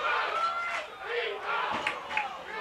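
At Riley Field during a California vs Southern Boone high school football game, the crowd keeps up a loud, continuous roar of shouting, with a couple of sharper cheers rising near the end.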